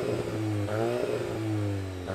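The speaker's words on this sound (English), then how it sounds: "now let's go into sport mode and rev it out" A 2022 Volkswagen Golf GTI with a 7-speed dual-clutch automatic revs in sport mode, its engine held loud and close against a soft limit just below 4,000 rpm with rising and falling pitch.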